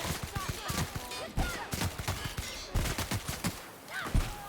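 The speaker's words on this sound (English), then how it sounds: "She's really shooting! Safety's off!" Gunfire in The Outer Worlds video game: bursts of rapid shots crack and rattle one after another in a dense fusillade, with a voice talking over the shooting throughout.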